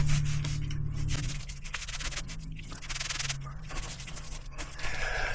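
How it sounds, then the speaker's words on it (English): Oil is squeezed and rubbed back and forth into a foam air filter from a Yamaha YZ450 dirtbike, giving close, repeated wet scrubbing and squishing rubs with brief pauses between strokes. "I turn it inside out and squeeze, then move it and squeeze and rub back and forth."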